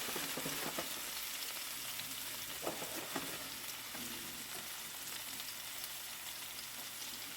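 Onions and garlic fry in a pan for Jamaican corned beef, giving a steady close sizzle with light crackle and a few soft stirring clicks, with no voices.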